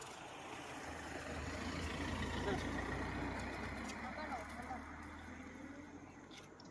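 A passing vehicle's low engine rumble swells, holds and slowly fades beneath people talking nearby.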